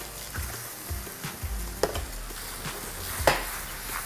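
Mushrooms go into an oiled pan with chopped garlic and shallots and sizzle softly, with a steady frying hiss and a few sharp taps and knocks of utensils against the pan, no speech.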